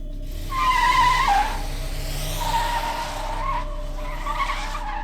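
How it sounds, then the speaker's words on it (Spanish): A car skids with loud tires screeching as it brakes hard on a city street at night, a long wavering squeal up front followed by quieter squeals and a steady low rumble beneath. "El rechinido de las llantas se escuchó fuertemente."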